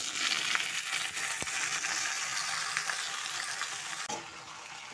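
Pieces of rohu fish frying in a pan give a steady, even sizzle of hot oil that runs unbroken and fairly faint throughout, with no voices.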